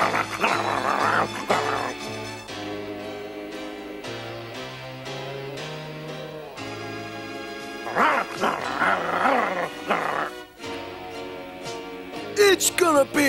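A cartoon dog from Heathcliff barks in a few loud yapping bursts over busy background music.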